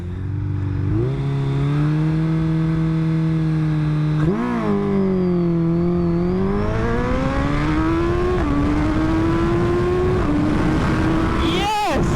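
A Suzuki Hayabusa motorcycle accelerates hard down a runway, its engine screaming up through the gears with short dips at each shift. The sound is loud and close throughout and ends in a sharp blast of wind noise.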